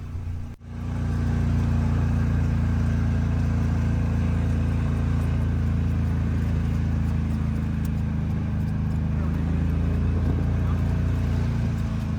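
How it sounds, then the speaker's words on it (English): Steady engine hum and road rumble from inside a shuttle vehicle driving at night around Globe Life Field, continuous and close after a brief thump at the start. "let's head back to the car with a nighttime shuttle ride around Globe Life Field"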